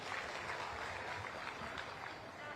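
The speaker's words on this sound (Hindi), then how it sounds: "सबके मैं एक बार जोरदार ताली के साथ सम्मान करता हूं" A crowd at a religious fair and saints' gathering in Chhattisgarh claps in a continuous, fairly faint wash of applause that sounds distant, with only a faint hint of voices.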